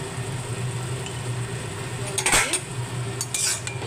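A lid goes onto a cooking pot of hilsa fish head with rice, giving a brief metallic clank followed by another light clatter a second later, over a low steady background hum.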